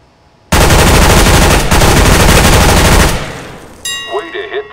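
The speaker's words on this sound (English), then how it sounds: "Bullet spread and weapon kick during firing." Machine gun firing in Counter-Strike: Global Offensive weapons training mode, a loud continuous burst lasting nearly three seconds that cuts off abruptly, leaving a fading tail and ringing electronic tones.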